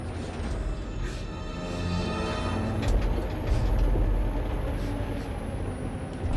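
A truck drives along in the video game Detroit: Become Human, with a steady low engine rumble and road noise filling the scene, plus a hiss of air brakes at moments.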